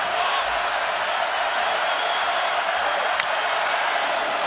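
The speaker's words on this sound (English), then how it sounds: "Their crowd, after a subdued first half, up and involved." A dense stadium crowd roars continuously at a Clemson Tigers football game in the Fiesta Bowl against Ohio State, a steady loud wash of cheering with faint whoops.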